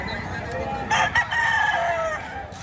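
A three-year-old rooster crows loudly and close, one long drawn-out call over a steady outdoor background hum.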